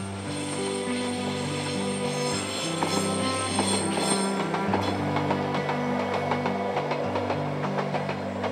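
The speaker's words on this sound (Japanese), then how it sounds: "列車が終点社に到着です" A Nagano Electric Railway limited express Yukemuri train, filmed in 2008, rolls into its terminal station. Steady rumbling and clacking wheels mix with sustained humming tones and some squeal throughout.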